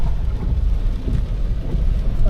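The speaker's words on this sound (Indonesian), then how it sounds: "Mana hujan lagi." Rain and rolling thunder sound over a Daihatsu Ayla driving on the Palimanan–Cirebon toll road, a dense low rumble with a constant wash of rain and wind noise, loud and close throughout.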